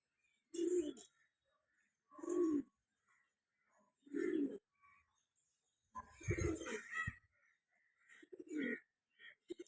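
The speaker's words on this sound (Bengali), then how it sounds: "লেজ কালো চোখ কালো পায়রা বন্ধুরা, গায়ে হালকা আঁশ আঁশ আছে।" Pigeons for sale, including a black-tailed, black-eyed bird, give several soft, low cooing calls at spaced intervals, faint and close in a quiet setting, with someone speaking quietly between them.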